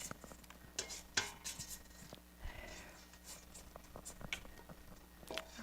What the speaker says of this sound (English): you want to be sure to scrape down the sides of it, of the pan